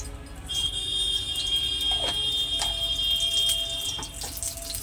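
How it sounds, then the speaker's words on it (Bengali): Whole cumin seeds sizzle in hot oil for tempering, a loud, constant frying hiss held steady throughout with a few faint clinks and tones above it, no speech. "এখানে আমি ফোড়নের জন্য গোটা জিরে দিয়ে দিচ্ছি।"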